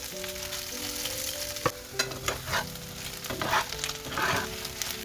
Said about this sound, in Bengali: সাদা তেল গরম করে সয়াবিনগুলোকে একদম আঁচ কমিয়ে ভালো করে ভাজতে হবে